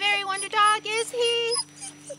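A dog whimpering and whining close by, several high, wavering cries in quick succession over a steady low electrical hum, fading to short faint yips at the end.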